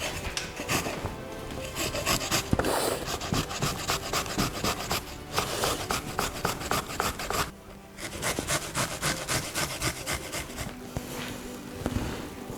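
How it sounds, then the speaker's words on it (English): Ginger and garlic rubbed steadily against a kitchen grater, a continuous close scraping rasp with a brief pause partway through. "So ginger garlic, you can crush it. I'm just gonna grate with this."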